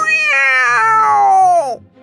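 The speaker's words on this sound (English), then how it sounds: "A cat with sharp teeth and sharp claws jumps up on the table." A single loud, close cat meow, drawn out for almost two seconds and falling in pitch at the end, with no talk over it.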